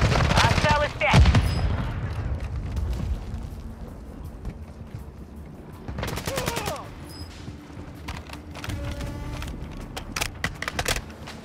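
Call of Duty: Modern Warfare II combat: a sharp grenade blast and bursts of gunfire up front, then later rattling volleys of shots, with game voice callouts in between.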